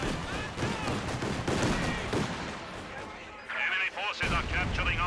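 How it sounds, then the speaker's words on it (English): Landmine blast amid Company of Heroes 2 battle sounds, heavy booms and crackling gunfire layered through the clip, loud and dense, with a bright burst near the end after a brief lull. "Good landmine detonation there."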